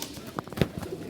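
Pigeons coo softly while being put into an enclosure, a few short low calls over a brief stretch with no talking.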